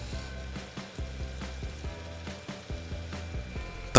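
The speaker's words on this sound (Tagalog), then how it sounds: "baliktarin lang po natin ito para maprito din yung kabila" A piece of salmon is flipped and fries in a pan, giving a steady low sizzle with light tapping and scraping at intervals, close by and without any talk.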